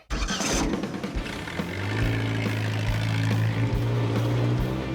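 A custom mashup car in a video game fires up, its engine settling into a steady, loud droning hum with a rising mechanical whine, heard alone without talking.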